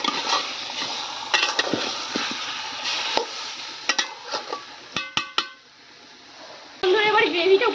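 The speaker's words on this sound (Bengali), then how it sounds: "এবার এটাকে একটুখানি ভাজা ভাজা করবো।" Chicken chaap frying in a pan, with sizzling and a run of spatula scrapes and clinks against the metal, ending in a louder burst of sizzle; a voice talks at times over the cooking.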